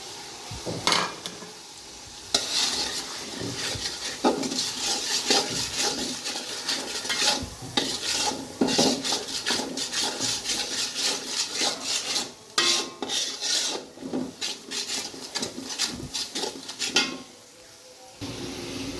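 Coriander, cumin, chili and turmeric powders with salt sautéing in a home kitchen pan, sounding as repeated scraping and rasping strokes of a spoon over a low sizzle, close up, with brief pauses and a soft clatter of utensils.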